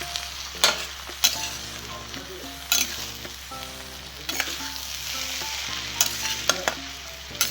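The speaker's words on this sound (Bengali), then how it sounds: "এই টমেটোগুলোকে বাঁধাকপির মধ্যে দিয়ে এরপর মিশিয়ে নিচ্ছি" Tomato pieces stirred into cabbage frying in a pan: constant sizzle punctuated by sharp spatula scrapes and knocks at irregular intervals, close and clear with no talk.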